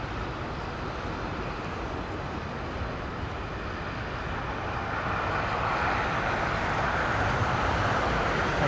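A Qantas airliner descending towards LAX produces a distant, broad rumbling roar that swells gradually louder over several seconds, with no speech.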